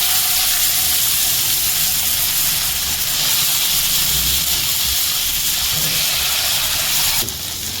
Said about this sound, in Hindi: ये देखिए, हाई फ्लेम पर ऐसे कुक करना है कि मुझे लगे हैं तकरीबन 5 से 7 मिनट